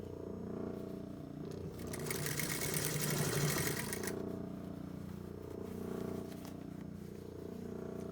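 A sewing machine stitches a shirt in one rapid, buzzing burst lasting a couple of seconds, close by and fairly quiet, with softer mechanical hum before and after.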